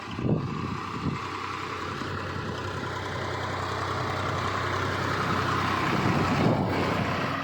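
A tractor's steady, rumbling engine drones on continuously on the Ponnekallu–Ravela main road, with wind buffeting the microphone, holding a fairly even loudness throughout.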